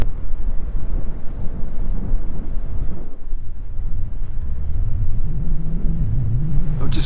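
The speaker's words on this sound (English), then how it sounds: "I've just caught up and overtaken this ship behind me." A steady low engine rumble of a river cargo ship passing near Braubach on the Rhine, mixed with gusty wind buffeting the microphone, swelling slightly toward the end.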